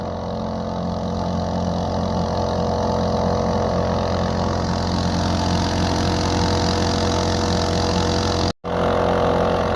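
A boat's engine drones steadily and loudly on a mangrove creek safari near where the creek meets the sea. The hum cuts out for an instant near the end, then resumes, with no talking.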